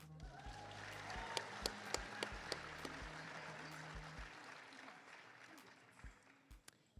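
Audience at a style awards show clapping and cheering, with a few sharp single claps standing out at first, then a thinner, fading round of applause with scattered loud claps near the end.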